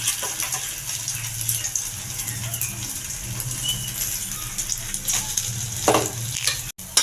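Bombay toast frying in a pan, with a loud, continuous close sizzle and bubbling oil, a few clatters near the end as pieces are handled and turned.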